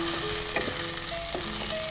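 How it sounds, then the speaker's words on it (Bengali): Whole green chilies frying in hot oil in a pan, giving a steady close sizzle with a few sharper pops and crackles, no one talking over it. "ভাজা হতে থাকো, এটা ভাজা হতে, কাঁচামরিচগুলো দিয়ে দিই"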